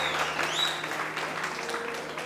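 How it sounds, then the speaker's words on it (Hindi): Studio audience on a Pakistani TV morning show applauding, a continuous moderate wash of clapping with a brief whistle-like tone and low room hum underneath. "तालियां बजा सकते हैं हम लोग"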